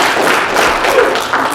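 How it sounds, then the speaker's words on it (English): A convention audience at a retro gaming expo panel claps hands together, a dense burst of steady applause throughout. "If you're familiar with the character Sonic the Hedgehog, can you please clap your hands?"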